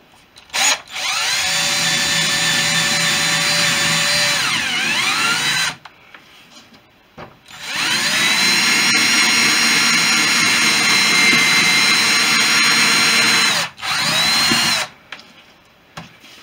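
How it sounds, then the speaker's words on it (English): A slightly oversized power drill bores the heads off rivets while replacing side windows on a Sherwood Kub light aircraft, two long loud whining bursts with a steady high pitch, separated by a short pause and ending with a brief spurt. "It should be relatively easy, he says, to just drill the head off."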